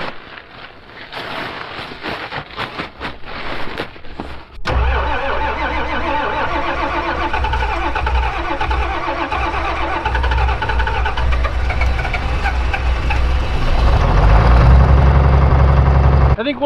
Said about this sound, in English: I think we'll let that tractor warm up for a second.